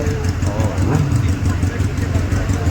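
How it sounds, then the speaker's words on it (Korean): A motorcycle engine idles nearby on a street in Nashville, Tennessee, a steady low rumbling throb that runs throughout while people talk over it. "오토바이."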